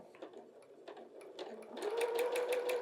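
A sewing machine stitching a quilt block, its needle thumping in a steady rapid rhythm that grows louder and faster after a slow start, close up with no talking.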